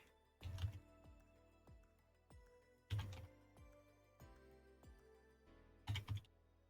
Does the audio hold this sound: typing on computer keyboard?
yes